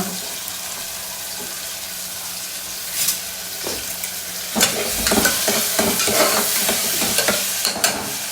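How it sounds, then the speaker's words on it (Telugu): Onions fry in a pan for mutton keema with a constant sizzle that grows busier as they are stirred, with repeated spatula scrapes and clatter, plus a brief splash of running water near the start. "సో ఆనియన్ వేసుకుంటున్నాను ఆనియన్ వేసుకుంటా"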